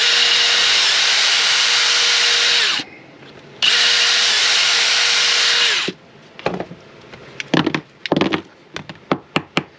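A Milwaukee power drill, used while cleaning up holes in a double magazine carrier before riveting, whines loudly in two long steady runs. After the runs come a string of sharp knocks and scraping handling noises.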